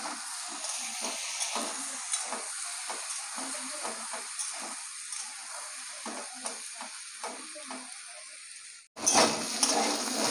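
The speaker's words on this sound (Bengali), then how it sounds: "এগুলো তেলে ভালো করে ভেজে নেব।" Taro and potatoes fry in oil with a constant crackling sizzle and bursts of stirring, close and steady, until the sizzle cuts off near the end and a louder rushing hiss takes over.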